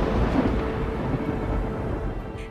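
Thunder from a lightning strike to the ground rolls as a dense, continuous low rumble, loud and sustained, gradually easing toward the end with no voices.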